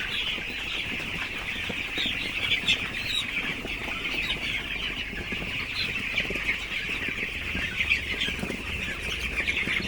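A crowd of chickens on a poultry farm fills the air with constant overlapping clucks and chirps, a dense, steady chatter with no talk.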